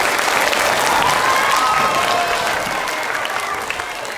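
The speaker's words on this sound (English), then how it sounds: "Give them a clap, please." A school audience claps for Year 3 and 4 finalists at a house general knowledge quiz, a steady, dense wash of applause lasting throughout and fading slightly toward the end.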